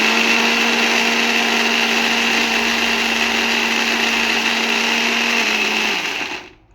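An electric blender grinds dried fish recipe ingredients with a little water into a paste, a loud, close, steady motor whir lasting about six seconds before winding down to silence.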